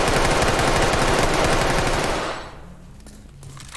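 Sustained automatic gunfire in the tactical shooter Ready or Not, a loud dense burst of rapid shots lasting over two seconds before cutting off abruptly, followed by quieter room noise and faint movement.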